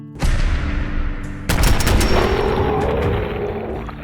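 Combat rifle fired in VATS in the Fallout series, a sharp loud report followed by a second burst of rapid shots with ringing metallic tail, close and alone.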